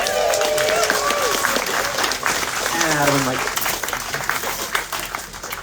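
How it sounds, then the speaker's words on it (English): A crowd at a wastewater treatment plant ceremony applauds for the town's public works crew, with clapping continuing under a speaker's voice and some crowd chatter. "A big hand of applause for Tofino Public Works."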